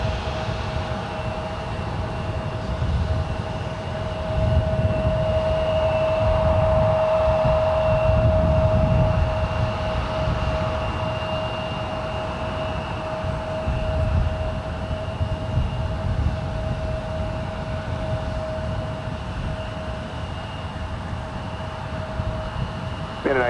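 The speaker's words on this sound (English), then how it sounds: "Scandinavian clear for takeoff, flight 936 back to Copenhagen with this 2-year-old A350-900." A two-year-old Scandinavian Airbus A350-900 jet bound for Copenhagen takes off at San Francisco International Airport, a sustained loud engine roar with a steady whine, heard from a distance.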